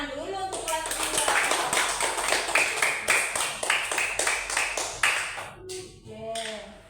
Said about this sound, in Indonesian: Tepuk tangan dulu untuk kelas 2.